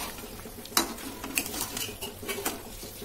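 A metal pot lid is lifted from a pan of raw mango slices cooking into a sweet and sour dish, giving close clinks and clatters with a few sharper knocks over a soft bubbling background, with no talking.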